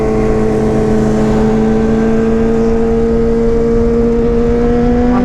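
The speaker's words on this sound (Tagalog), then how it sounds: "Ang ganda ng mga motor, oh." Engine drone on the road near a Kawasaki Ninja 1000 and other motorcycles, a loud steady hum holding one pitch and rising slightly at the end.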